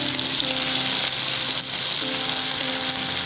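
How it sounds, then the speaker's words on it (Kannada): Diced raw mango and brinjal frying in a pan, a loud, continuous close-up sizzle with a brief dip partway through and a faint tonal hum beneath. "ಅದು ಸ್ವಲ್ಪ ಫ್ರೈ ಆಗಲಿ."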